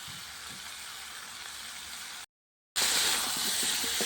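Soaked chickpeas fry with spices in a pan over a clay stove, giving a steady, close hissing sizzle that drops out briefly before returning louder.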